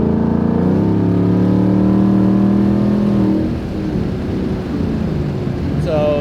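Loud, close exhaust roar from a straight-piped 2019 Ford Mustang GT pulling hard, climbing in pitch for a few seconds before easing into a deep rumble as the throttle lifts.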